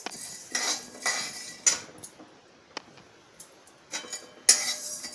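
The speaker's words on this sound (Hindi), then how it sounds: "ये है मेथी, इसको भून देनी है।" Dry fenugreek seeds stirred in a metal pan while being roasted for homemade mango pickle, sharp intermittent scraping and clinking strokes close up, with quiet gaps between them.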